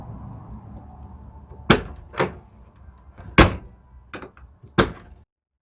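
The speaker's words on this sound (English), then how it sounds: "Go ahead and close the door." An RV entry door fitted with a Latch It keyless latch lock is shut and worked, giving five sharp close thunks and clacks spaced about a second apart over a low background hum, ending in silence.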